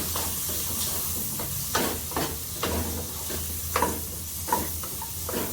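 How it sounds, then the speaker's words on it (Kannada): Masala powders (turmeric, coriander and chili) fry in oil in a pan, with a steady close sizzle and repeated scraping stirs at an irregular rhythm and no talking. "ಸ್ವಲ್ಪ ಹಸಿ ಸ್ಮೆಲ್ ಹೋಗೋವರೆಗೂ ಫ್ರೈ ಮಾಡೋಣ"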